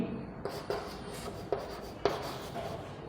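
Pen or chalk writing during an agriculture lesson, irregular scratchy strokes with a few sharper taps, close and fairly quiet, no talking.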